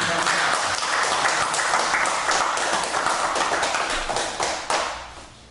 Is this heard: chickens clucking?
no